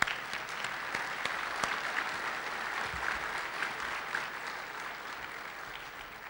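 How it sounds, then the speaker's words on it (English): An audience at a business forecast event applauds with steady, dense clapping that holds evenly for several seconds at moderate distance, fading slightly toward the end. "How about a round of applause for these people?"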